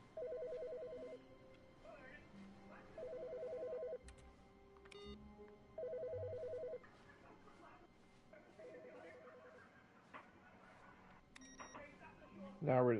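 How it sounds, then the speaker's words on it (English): A telephone rings in The Stanley Parable, four repeated bursts of a bright electronic trill spaced a couple of seconds apart, over a quiet indoor game backdrop with a voice speaking in between. "Phone's ringing."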